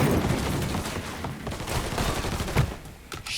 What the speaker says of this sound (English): Shoot everybody!